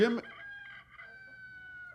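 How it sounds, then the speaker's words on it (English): Rooster crowing indoors in a concert hall, a loud drawn-out call that starts sharply and tails off in a long wavering note, with no talk over it. "That's a rooster."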